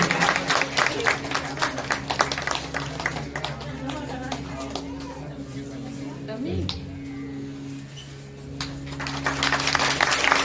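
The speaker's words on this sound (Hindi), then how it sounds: "जोरदार तालियों में स्वागत करेंगे।" An audience at the final day of a Bhagvat katha gathering claps in quick, crisp bursts that rise at the start, fade in the middle and swell again at the end, with a voice speaking over them.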